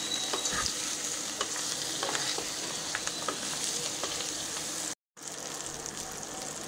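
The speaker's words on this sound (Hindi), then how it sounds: "मैंने कॉर्न को मसालों में अच्छी तरह मिक्स कर दिया है।" Spiced crispy corn with coriander sizzles and crackles as it is stirred in a hot pan over raised heat, a steady close frying hiss with scraping clicks, briefly cut by a gap.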